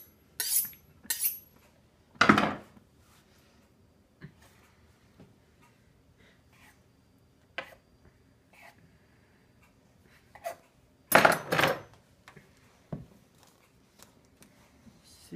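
A knife scraped and sawing through thick, crusty bread, heard as a few sharp, close bursts of scraping and crunching separated by long quiet stretches with small clicks and taps.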